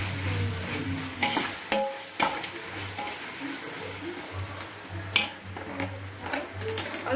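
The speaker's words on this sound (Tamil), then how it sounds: "இந்த அளவுக்கு வெங்காயம் வதங்கணும்னே" Onions and tomatoes fry in a pan for mutton biryani, a steady close sizzle with irregular scraping and stirring clatter throughout, no voices.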